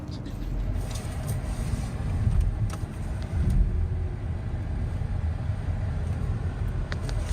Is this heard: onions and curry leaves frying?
no